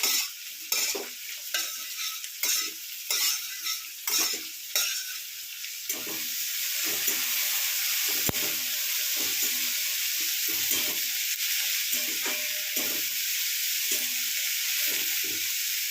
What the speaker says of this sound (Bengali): পেঁয়াজটা ভাজতে দিলাম